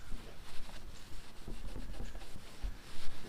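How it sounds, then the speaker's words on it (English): A microfiber rag wipes leftover badge adhesive off a car's painted body panel after a cleaner spray, making a steady close rubbing swish with uneven strokes and no voices. "put a couple sprays on a microfiber rag. You can start wiping it right on."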